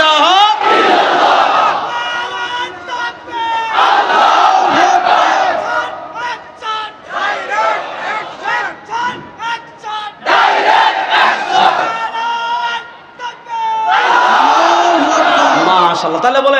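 A crowd loudly chants the Islamic slogan La ilaha illallah, which is also being proposed as Bangladesh's national slogan. The massed voices rise in repeated bursts with short pauses between them, and they stay near and full across the whole stretch.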